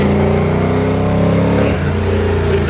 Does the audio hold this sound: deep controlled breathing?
no